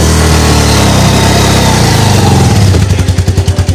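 Two motorcycles revving hard on an uphill road, the engine note loud and close, then settling into a rhythmic, pulsing low rumble near the end.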